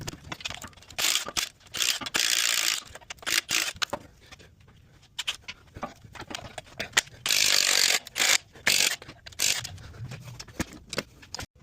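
Ratchet wrench work on the driveline bolts of a 2022 GMC Yukon 5.3L 2WD, heard as bursts of rapid close clicking and metallic clatter that start and stop repeatedly, with quiet gaps in between.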